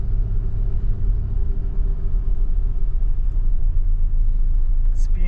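A 4x4 vehicle rolls down onto a soft sandy beach, producing a steady, loud low engine rumble with continuous road and wind noise and no pauses.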